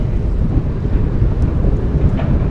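Strong wind buffets the microphone in a loud, continuous roar while a cyclist rides uphill into a headwind on a commute, with no other sounds emerging.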